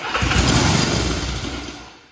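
A restored Honda CB77 Super Hawk motorcycle engine cranks and catches, then runs with a loud, rough, uneven putter that slowly settles and fades slightly toward the end.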